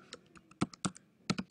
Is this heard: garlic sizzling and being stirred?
no